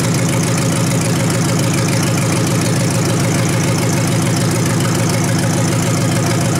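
A 1953 Hemi engine running at idle with an old mechanical fuel pump, giving a loud, continuous, rhythmic mechanical churn and ticking, close and steady throughout.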